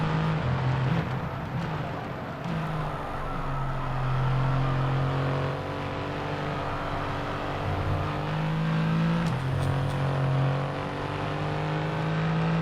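An F1 car laps the Australian Grand Prix circuit in the F1 22 game, its high engine note rising and dropping through gear changes, loud and close for the whole stretch with no talking.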